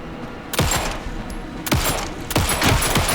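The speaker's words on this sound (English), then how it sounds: "Anderson, pin him down with gunfire for me to get the light on him." Bursts of rapid gunfire in the video game Alan Wake 2 erupt in three clusters, loud and close, with sharp cracks ringing out over a steady background hum.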